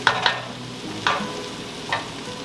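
Cabbage frying in a Dutch oven, stirred a few times: three distinct scraping stirs over a steady soft sizzle, close and moderately loud with no talking.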